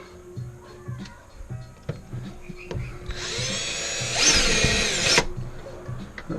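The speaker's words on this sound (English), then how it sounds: "that'll swing it off so I can drill the next hole" Cordless power drill boring a hole to mount a rock light on a Jeep, a close, loud whirring burst lasting about two seconds and rising in pitch, amid faint ticking and clicks.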